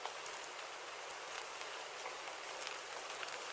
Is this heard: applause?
no